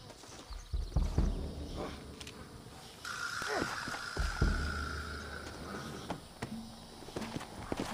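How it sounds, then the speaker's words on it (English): Rhythmic clip-clop of horse hooves in Red Dead Redemption over a steady background hum, with scattered clicks and a sustained tone partway through; no one speaks. "Looks like Carlos left us some horses"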